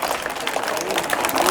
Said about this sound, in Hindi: इनके लिए जोरदार क्लैपिंग।